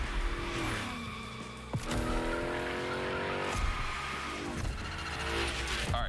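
A car slides through gymkhana drills in The Crew Motorfest, engine revving and dropping while tires squeal and skid in repeated bursts, loud and close with no voices.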